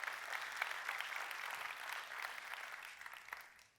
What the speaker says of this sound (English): How about another round of applause for everything you saw on stage?